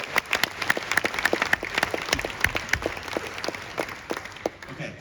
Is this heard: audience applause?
yes